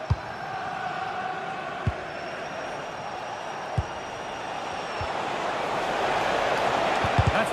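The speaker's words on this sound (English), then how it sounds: "Well, just listen to this crowd. They want a bit more." A stadium crowd roars steadily through a football match as the home side chases a late equaliser. The broad wash of voices swells louder toward the end, with a few faint thumps beneath it.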